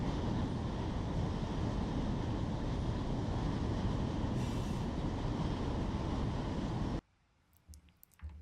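A freight train rolling over the Barstow hump yard in the Run 8 Train Simulator game, a loud continuous rumble of wagons and wheels with a brief squeal, cutting off abruptly to near silence with a few faint clicks.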